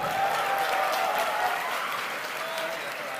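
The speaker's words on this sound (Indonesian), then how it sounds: "Tepuk tangan buat Pak Tito." A crowd at a Thursday-night religious gathering applauds steadily for Pak Tito, head of immigration at Soekarno-Hatta; the dense clapping stays loud and even throughout.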